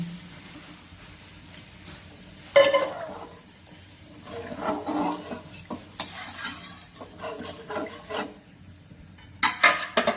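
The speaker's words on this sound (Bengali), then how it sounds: "ভালো করে মশলাটা কষানো হয়ে গেছে, এবার জল দিয়ে দিচ্ছি" Water poured onto a sizzling spice paste cooked down for a duck egg and dried fish curry, giving a sudden hiss and bubbling followed by scattered stirring and pan clatter, close and moderate, no talk.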